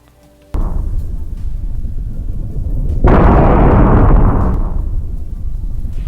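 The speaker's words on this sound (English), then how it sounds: "a very loud nuclear explosion that could wipe out half of the earth" AI-generated very loud nuclear explosion: a sudden booming onset swells into a massive, roaring rumble at about three seconds, then a long sustained blast roar that stays loud to the end, with no talk.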